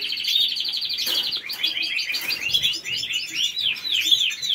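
A pet bird chirps and sings close by in a steady stream of bright, repeated whistled notes and quick tweets, with no voices over it.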